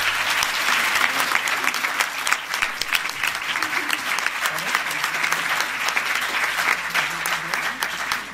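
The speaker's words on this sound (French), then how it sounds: "C'est eux qu'il faut applaudir." Audience applause at an academic lecture event, a dense, sustained roar of many hands clapping with some crowd murmur and a faint voice underneath.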